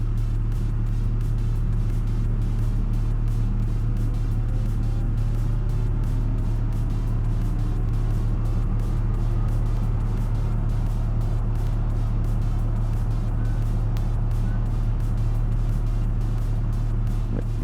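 A truck engine drones steadily and loudly while towing a long train of trailers in BeamNG, its low hum unbroken throughout with no talking.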